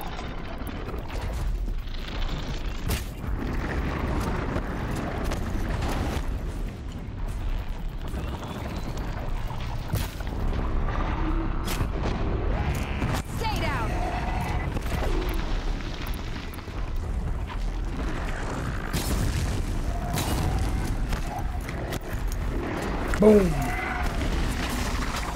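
Explosions in the action game Horizon Zero Dawn, heavy booms and crackling blasts over a continuous rumbling battle, with a person talking loudly over much of the mix.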